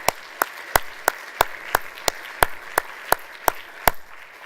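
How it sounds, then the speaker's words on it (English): At a conference closing lunch session, hands clap in a slow, even rhythm, about three sharp claps per second, each one crisp and distinct over a quiet room. "another round of applause for Byron and Andrea."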